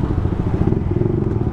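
Suzuki Gixxer motorcycle fitted with an SC Project exhaust, heard while riding: a loud, close, low engine rumble with pulsing exhaust throb and heavy wind buffeting.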